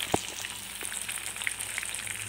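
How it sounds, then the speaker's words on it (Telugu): Mustard seeds and other tempering spices, with curry leaves and asafoetida, fry in hot oil for mango pulihora, giving a steady close sizzle with scattered small pops and one sharper crackle near the start. "కొంచెం ఎర్రగా వేగిన దాకా మనము వేయించుకోవాలండి పోపు గింజలు"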